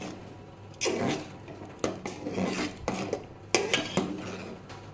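Lentils and rice for khichuri being stirred together in a pot, with a spoon scraping and clinking against the metal in irregular bursts, close and moderately loud.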